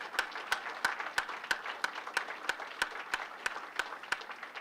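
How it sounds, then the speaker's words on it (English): NASA headquarters staff break into a round of applause, a sustained crowd clap with sharp, evenly spaced rhythmic claps standing out from the general wash, moderately distant. "Give yourselves a round of applause for that."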